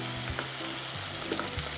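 Mushroom fried rice with mint sizzles as it is stir-fried in a pan, a continuous crackling fry broken by quick scraping stirs, close and steady with no voices.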